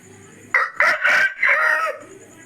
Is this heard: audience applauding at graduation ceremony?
no